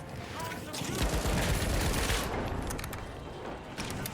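Heavy, overlapping gunfire from many players in The Finals pours out as a chaotic, continuous barrage with a steady roar. Sharper bursts stand out toward the end, and faint voices are mixed underneath.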